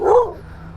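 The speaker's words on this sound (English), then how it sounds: "So you're gonna get him barking at you." A single dog bark rings out close and loud, one short burst followed by quiet low background rumble.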